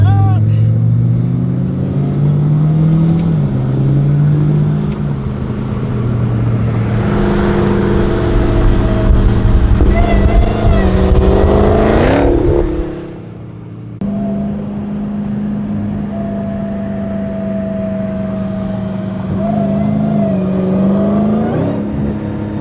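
A Dodge Demon 170 rumbles nearby, its engine note rising and falling, then swelling into a loud surging acceleration before dropping and settling into a steady drone, with people talking over it.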